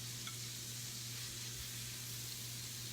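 Squid and fish frying in a black paella pan with chorizo, a steady close sizzle with a low hum underneath and no talking.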